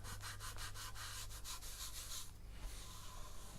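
Steady sanding of a spalted maple guitar body for a Les Paul kit, close rhythmic rubbing strokes with a constant low hum beneath.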